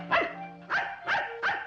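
A dog barks four times in a fairly even rhythm, close and loud, with short sharp yips and no talking.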